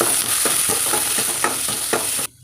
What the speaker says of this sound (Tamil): வெங்காயம் பச்சை மிளகாய் கருவேப்பிலை போட்டுக்கலாங்க இதோட கடலை பருப்பு போட்டுக்கலாம் இதை வந்து ஒரு மூணு நிமிஷம் ஃப்ரை பண்ணிக்கலாங்க